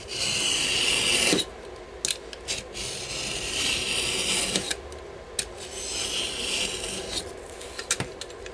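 A sharp blade slices and rasps through paper scraps in close, dry scraping strokes. A longer cut is followed by several short, crisp snips with brief pauses between them.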